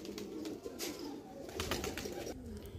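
Pigeons cooing in a Lucknow pigeon market, soft repeated low coos close by with faint background rustle and a sharp knock at the end.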